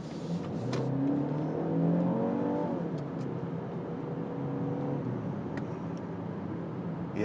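A 2024 BMW X2 xDrive 28i taking a curve on a twisty road, heard from inside as a steady engine hum and tire noise with a gently rising and falling pitch, smooth and continuous throughout.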